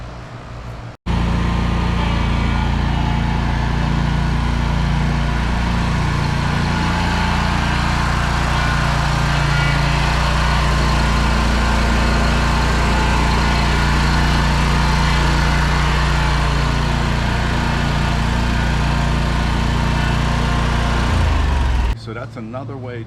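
A zero-turn lawn mower runs loudly and steadily nearby on a lawn for about twenty seconds, its engine rumble swelling slightly as it turns, with a voice talking over it.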